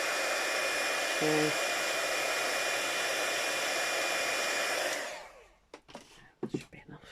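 A hair dryer blows a steady, loud rushing stream of air over a junk journal page for about five seconds, then cuts off, leaving light handling rustles and a brief spoken word.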